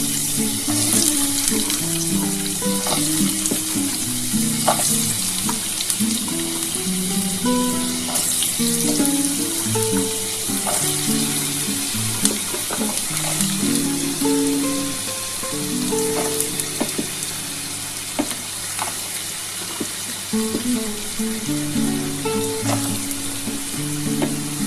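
Potatoes sizzle in hot oil in a pan for a vegetarian drumstick-and-potato poppy seed dish, a steady loud crackle with some stirring and clatter throughout.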